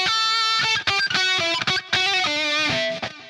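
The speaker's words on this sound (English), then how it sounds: "He also does some tapping in a previous section, the one that sounds like this." Distorted electric guitar tapping a quick legato phrase from a guitar solo, with rapid sustained notes and short gaps, loud and up close with no voices.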